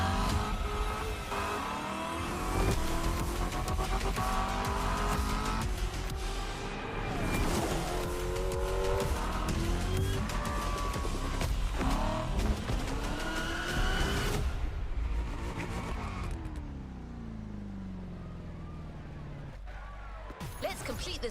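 Ferrari race car in the video game Crew Motorfest, engine roaring and revving continuously with tire squeals and a few impact thuds, loud and close, ending with a quieter stretch.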